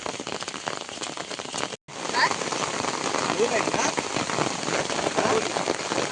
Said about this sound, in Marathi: मस्त पाऊस पडतो आता